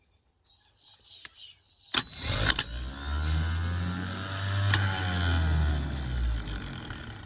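A starter solenoid on a 1975 White 2-150 tractor clicks in sharply, then the starter motor spins with a steady, loud mechanical whir and hum, close by, running for several seconds with no talking.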